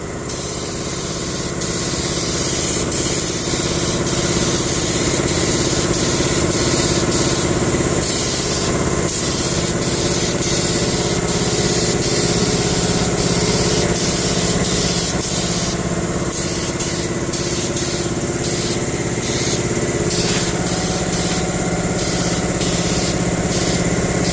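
Spray gun coats a sweetcorn planter in green paint, a loud continuous hiss broken by short bursts and pauses as the trigger is pulled and released, with a compressor-like hum underneath.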